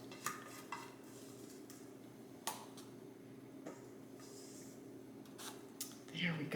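Spatula scraping the last carrot cake batter from a mixing bowl, a few soft clinks and scrapes spread over steady low background hum, with a louder scrape near the end.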